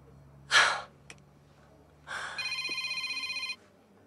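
A telephone rings indoors in a rapid trilling burst lasting about a second, close and clear, preceded by a sharp breathy gasp and a sigh.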